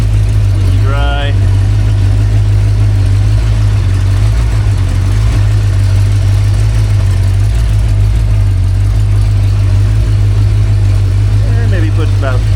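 Rebuilt Ford 289 V8 running on a home-made engine stand, loud, steady low idle throb close by for the whole stretch, with brief voices in the background.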